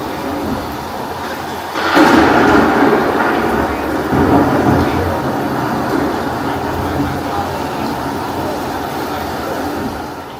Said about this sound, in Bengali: বজ্রপাতের শব্দে চারপাশ প্রকম্পিত, যেন সত্যি কোনো প্রাকৃতিক দুর্যোগ নেমে এসেছে।